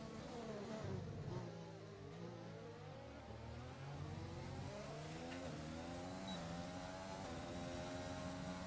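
A Formula 1 car engine from a PC racing game drones and shifts pitch through gear changes on an out lap at the Spielberg circuit in Austria, steady and close, with faint commentary voices underneath.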